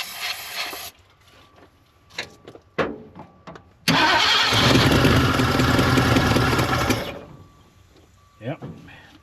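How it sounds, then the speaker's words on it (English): An old Ford Dentside F150 pickup cranks and fires up, roaring loudly for a few seconds before dropping back, close up, with brief speech before and after the engine run. "Let's see if she likes this."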